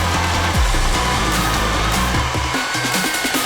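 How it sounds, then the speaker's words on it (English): A regular household vacuum cleaner, not a wet-and-dry model, hoovers standing water from the boot of an old Toyota Supra, giving a loud, steady motor whine with gurgling, sputtering suction throughout. "It's time to see how much of the boot I can hoover, because quite a lot of water in there as well"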